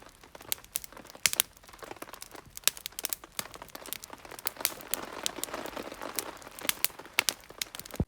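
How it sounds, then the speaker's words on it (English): Rain beginning to fall on a camp tarp at a lakeside campsite in Algonquin, a scattered, irregular patter of close drops tapping and crackling on the fabric, with no voices. "now as soon as I get up it starts raining"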